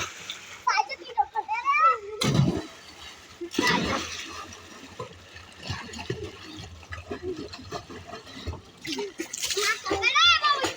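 Children jump into water while swimming, sending up two big splashes early on and smaller splatters after, with kids' voices calling and chattering throughout.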